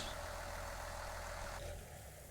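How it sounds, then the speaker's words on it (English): A tractor engine idles in Farming Simulator 19, a steady low rumble with a constant hum that continues alone and drops slightly in level near the end as it begins to wind down. "Turn tractor off, save some fuel."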